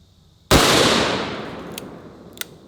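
A single .500 Magnum revolver shot fired at a steel safe, one sharp explosive blast with a long ringing decay, followed by two faint metallic clinks.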